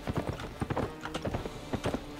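Rapid clip-clop of horse hooves from a horse riding video game, a steady galloping rhythm of hoofbeats with a faint whinny, fairly close and clear with no talk over it.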